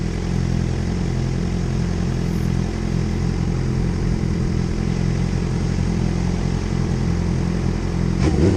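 A motorcycle rides with a steady, loud low engine drone and wind rumble throughout, with no speech.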